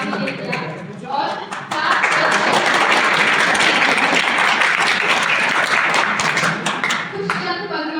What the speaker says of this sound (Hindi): सबसे पहले तो क्लास 11 के बच्चों के लिए जोरदार तालियां आप बजाएंगे